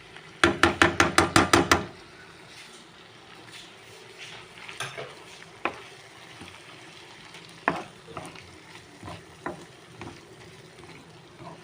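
Butter garlic prawns cook in a pan, opening with a rapid burst of about eight loud metallic taps, then a low steady sizzle with scattered clinks and utensil knocks, no speech.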